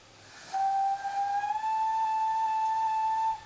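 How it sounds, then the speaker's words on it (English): A single sustained steam whistle from an SECR C Class locomotive in Train Simulator 2019 sounds as a steady, clear tone, holding for about three seconds before cutting off, with no talk. "But we've got 2 looped whistles."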